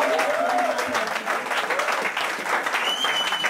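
An audience applauds at a church ordination ceremony, with steady, dense clapping throughout and a voice rising briefly over it.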